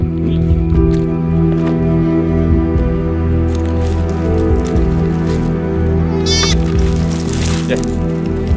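Sheep and goats of a nomadic Iranian herd bleat on the move, with steady low animal and ambient noise throughout and a sharp, higher bleat rising near the end.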